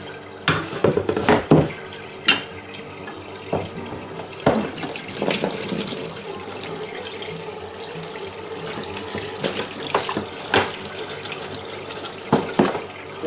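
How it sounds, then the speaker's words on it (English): Tap water running into a sink while still equipment is rinsed out, with uneven splashing and gushing bursts that rise and fall up close. "I do like to rinse everything out."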